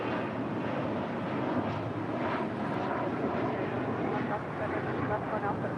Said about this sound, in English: A very rare south side departure for the Virgin Atlantic A350-1000